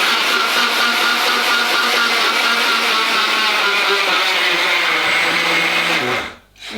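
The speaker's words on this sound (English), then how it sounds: "You pulse it until it becomes fine breadcrumbs" A blender whirs loudly and continuously as jam tart pastry mix is pulsed into fine breadcrumbs, then spins down and stops near the end.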